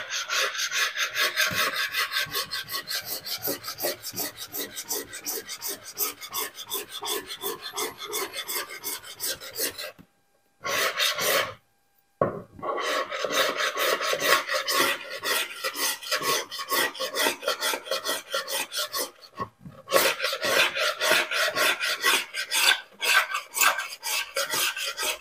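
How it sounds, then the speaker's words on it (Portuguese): Black paint being scraped off a wooden surface to expose white underneath, a long, steady rasping scrape repeated in rapid strokes, close and loud, broken by two brief silent pauses. "E aqui é só raspar."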